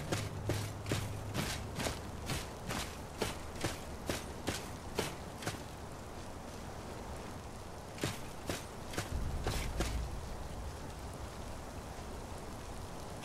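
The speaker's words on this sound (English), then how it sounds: "Our footsteps will echo in every chamber and tunnel" Footsteps echo through cave chambers and tunnels in the video game Skyrim, a steady run of evenly spaced steps that pauses briefly before resuming, set against a constant hiss of background ambience.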